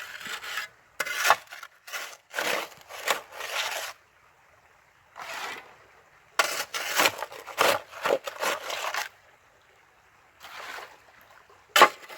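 A shovel scrapes and digs into wet clay in a creek bed while prospecting for gold, a series of rough gritty strokes in irregular bursts, close and fairly loud, with short pauses between scoops.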